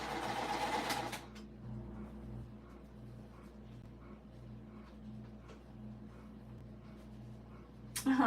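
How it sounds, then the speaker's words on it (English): A sewing machine stitching batik fabric, its steady motorized whir running close and fairly quiet, with brief louder rustles of the cloth at the start and end. "I'm really loving sewing these batiks"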